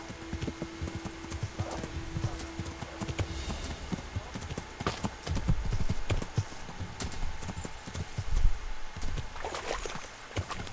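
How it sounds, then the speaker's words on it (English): Hooves clatter in a rapid, uneven clip-clop as a horse gallops along a road in Kingdom Come: Deliverance, loud and close, with occasional heavier thuds and game ambience underneath. "Horse is too fast for this road."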